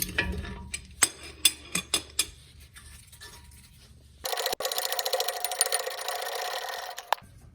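A wrench loosening transmission mount bolts on a 1997 Mazda B2300 with a manual M5OD gearbox: several sharp metallic clicks and clanks close by, then a dense rapid ratcheting rattle.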